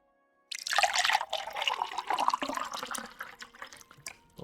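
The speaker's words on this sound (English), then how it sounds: "a water pour" Water splashes and trickles steadily after a moment of silence, a fairly quiet, continuous pouring sound that fades slightly toward the end, with no talk.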